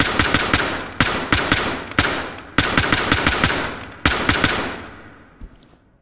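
Test-firing guns at a shooting gallery in Ready or Not: loud, close, rapid automatic bursts of gunshots in several strings separated by brief gaps, ending in a few trailing echoes.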